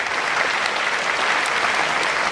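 An audience claps steadily through the whole stretch at a song-sharing evening concert with a choir and guest singers. The applause is dense, even and close, with no pause and no talk over it.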